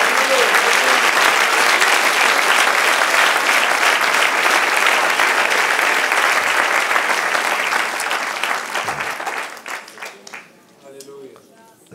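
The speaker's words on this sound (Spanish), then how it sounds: "Dar un aplauso al Señor." A church congregation applauds the Lord during a sermon, loud sustained clapping from many hands that rolls on for several seconds, then thins and fades out as a voice begins to speak.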